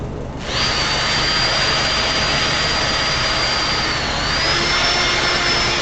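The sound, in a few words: sanding a CA finish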